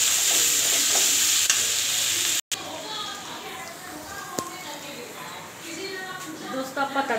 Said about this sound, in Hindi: आपां तड़का लगा रहे सब्जी नूं